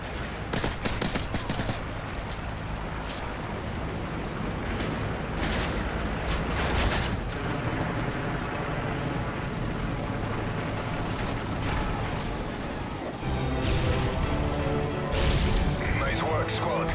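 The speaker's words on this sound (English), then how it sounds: "Strafe run incoming." Strafe run in Modern Warfare 3 multiplayer on the Bootleg map: dense, continuous bursts of rapid gunfire and booming explosions fill the whole stretch, loud and chaotic, with game voices talking underneath.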